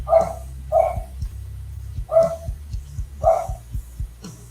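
A dog barks in a series of sharp, separate woofs, five or six in a loose rhythm, fairly close and loud over a low steady hum, with no talking.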